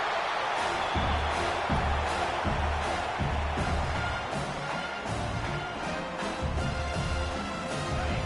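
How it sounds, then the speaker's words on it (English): A stadium crowd in the NCAA 26 college football video game, South Georgia vs Syracuse, roars in a sustained, loud, frenzied wash after back-to-back sacks, with rhythmic low thumps running underneath. "this crowd is losing it, frenzied after the back-to-back sacks"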